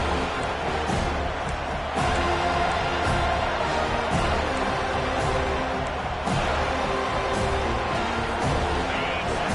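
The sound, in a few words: stadium crowd cheering in Madden football video game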